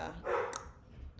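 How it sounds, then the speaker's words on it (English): A single short dog bark sounds at moderate distance and fairly quiet, followed by faint room noise. "That's the dog."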